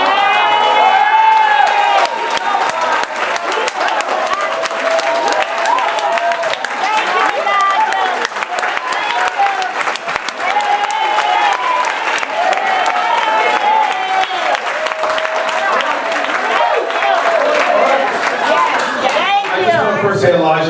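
A crowd claps and cheers at a political meet-and-greet, a sustained burst of applause mixed with shouts and chatter that runs nearly the whole time before tapering off at the end.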